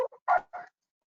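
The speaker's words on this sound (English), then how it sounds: "I apologize again for the dogs." Dogs barking in the background of an online video call, a few quick yips and barks in a brief burst, fairly faint, with no talk over them.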